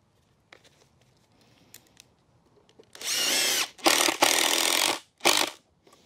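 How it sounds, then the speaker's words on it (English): Impact driver sinking a long screw into reclaimed wood while a potting bench is built, with a few quiet handling clicks first, then three or four loud rattling bursts of driving, close up and alone. "Then we can use our impact driver there, make sure our screw is long enough."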